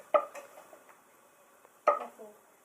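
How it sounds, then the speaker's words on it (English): A spatula scrapes and spoons cooked rice into a pan of chicken and broccoli casserole, giving two short clattering scrapes against the pan about two seconds apart in a quiet kitchen. "And you get your spatula and spoon that in."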